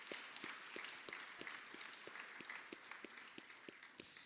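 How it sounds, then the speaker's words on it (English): An audience at a state arts awards ceremony gives a brief round of applause, the sharp claps sounding thin and distant rather than close. "if everyone could give a quick round of applause to Senator Stinner for everything he's done"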